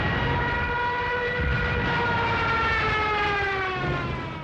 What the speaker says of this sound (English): the German Junkers 87 dive bomber, nicknamed the Stuka, and fitted with a screaming siren